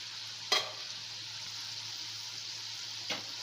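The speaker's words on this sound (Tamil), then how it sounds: "எண்ணெயோட ஓசை மெதுவாக அடங்க ஆரம்பித்த உடனே நம்ம இதை அப்படியே எடுத்துடலாம்" Mixed vegetable pakoda frying in hot oil, a steady close hiss of bubbling oil with two brief louder spatters, no voices.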